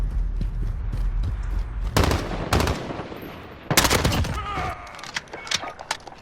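Rapid bursts of weapon fire in Call of Duty Modern Warfare, loud and close, with several sharp volleys separated by brief gaps and scattered quieter shots toward the end.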